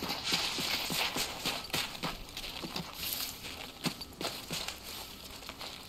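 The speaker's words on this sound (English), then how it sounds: "I heard footsteps down that way." Footsteps in the video game Escape from Tarkov: a run of quiet, distinct crunching steps at an uneven walking pace, fairly faint and somewhat distant, with no talk over them.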